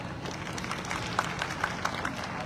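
An audience at an AWPL gathering in Jodhpur, Rajasthan claps in steady, moderate applause, a mass of many hands with a few sharper claps standing out, somewhat distant in the room.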